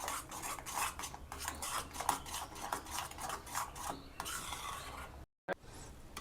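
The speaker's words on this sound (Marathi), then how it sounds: "चांगले आपण आता मिक्स करून घेऊया।" Mango custard mixture with milk powder stirred in a pot, a steady close scraping and rubbing of a spoon that continues without a pause, then a brief cut to silence and more stirring.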